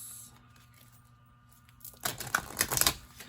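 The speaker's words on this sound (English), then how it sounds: "Let's do a little shuffle, and we will see what messages are for us." A deck of cards is shuffled after a quiet pause, giving a short, close burst of rapid riffling and flicking clatter that lasts just over a second.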